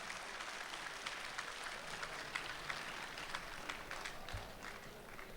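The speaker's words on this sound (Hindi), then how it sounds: "इमरान के लिए बहुत सारी तालियां।" A mushaira audience applauds with a dense, even patter of many hands clapping at a distance, low in level and sustained without a break.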